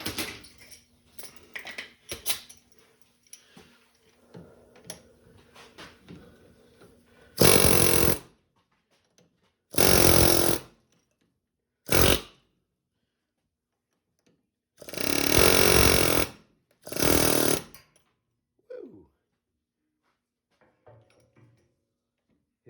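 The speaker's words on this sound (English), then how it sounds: "we're gonna grab our air chisel with a flat bit and go around that ball joint" An air chisel with a flat bit works around a ball joint on a 2013 Chevrolet Suburban, firing in five loud rapid-hammering bursts of about a second each, separated by quiet gaps, after some lighter clanks of handling.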